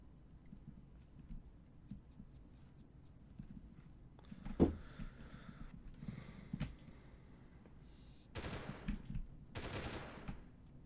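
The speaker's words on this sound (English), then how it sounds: "There is some shots, and it's pretty close from the sounds of it" Gunfire in the 1998 video game Delta Force: faint scattered shots and a sharp crack over low background rumble, then bursts of rapid automatic fire toward the end, fairly close, with no voices.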